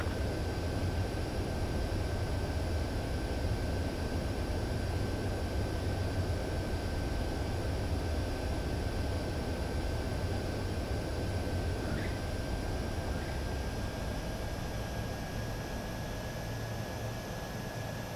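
A fighter jet approaching to land in the video game Ace Combat 7 gives a steady, broad engine roar and rushing hiss with a faint constant tone above it, continuous throughout with no voices.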